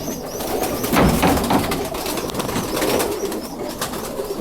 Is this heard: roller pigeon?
yes